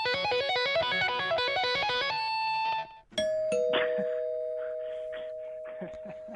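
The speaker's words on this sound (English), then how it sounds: "you can listen to Randy's rock and roll doorbell that he invented" A homemade rock and roll doorbell plays a busy, bright melodic riff that gives way to long sustained chime tones, with voices and clatter breaking in near the end.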